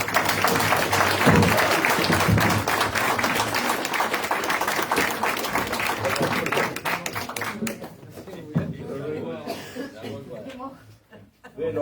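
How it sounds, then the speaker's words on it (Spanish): An audience at a labour-movement event on democracy claps and applauds in a lively burst of dense clapping that thins and fades, with people talking and laughing over it. "Los aplausos me asustan."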